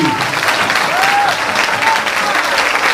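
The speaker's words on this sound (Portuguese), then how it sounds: "Vamos aplaudir o nosso Deus bem forte" A congregation at a religious talk applauds loudly for God, a continuous, fairly close wash of many hands clapping with some faint voices blended in.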